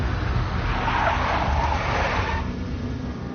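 A big black Mercedes skids in the Max Payne video game, a loud sustained tire squeal and rushing car noise that fades toward the end.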